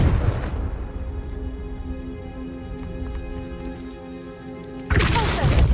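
Confringo fire spell exploding in Hogwarts Legacy, a heavy boom followed by a sustained humming, tonal tail, then a second loud burst of noise near the end.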